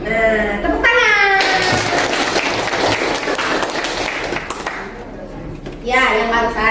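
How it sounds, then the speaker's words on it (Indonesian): Applause in a classroom, a burst of lively clapping from students that fills several seconds, starting right after a voice speaks and fading out before speech resumes. "tepuk tangan"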